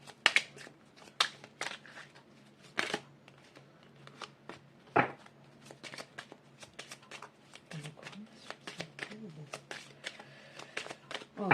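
Tarot cards being shuffled by hand, a series of quick papery riffles and soft slaps in uneven bursts, close and fairly quiet, with someone speaking French at intervals.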